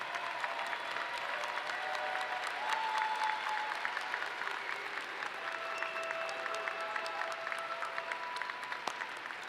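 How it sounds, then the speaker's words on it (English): Graduates at a spring commencement ceremony applaud their families and friends, a broad, steady wash of clapping heard from a distance at fairly low level, with scattered cheers and voices underneath. "give your family and friends a big round of applause"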